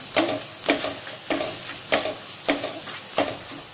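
Soya chunks frying in a pan with coriander powder, stirred in six steady scraping strokes about every half second over a constant sizzle, close and alone.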